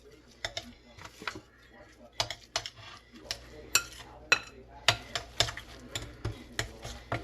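A spoon working through a salmon croquette mixture with cornmeal, giving a run of close, irregular scraping clinks and taps against a bowl, spaced roughly every half second.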